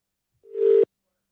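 A single steady telephone tone sounds while a number is being rung. It is short, clear and mid-pitched, lasting under half a second and then cutting off abruptly, with no talking.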